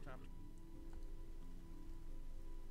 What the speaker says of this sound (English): I believe it's raining.